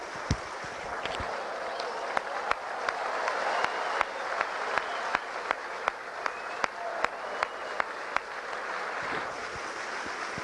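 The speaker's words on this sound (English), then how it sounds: "The crowd really appreciates that." A crowd applauds steadily outdoors at a 1983 Mt Albert Lions final against Fox, a broad wash of clapping with sharp individual claps, heard through gusting wind noise.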